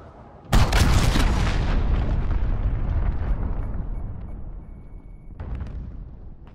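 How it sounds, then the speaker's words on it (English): A large cruise missile explosion in the Call of Duty: Modern Warfare beta, a sudden loud boom that erupts at once and rolls into a long, slowly fading rumble, with a smaller burst near the end. "Allied cruise missile launched."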